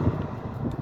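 Wind buffeting a microphone outdoors on a street, a short loud rumbling gust with low-frequency thumps and no speech.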